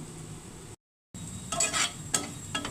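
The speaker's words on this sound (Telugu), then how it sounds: "కొద్దిసేపు ఇవి ఫ్రై చేయాలండి మాడకుండా" Ground spices (coriander, chili, curry leaf powder, garam masala, turmeric) frying in oil in a pan, a soft sizzle with stirring scrapes and light clinks, briefly cut to silence before resuming.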